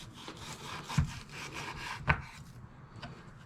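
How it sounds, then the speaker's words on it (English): A knife slices raw meat into strips about a centimetre thick for biltong, giving a steady rubbing, sawing scrape with two sharper knocks as the blade meets the board, close and fairly quiet. "keeping our knife parallel with that side of the meat, cut that into slices"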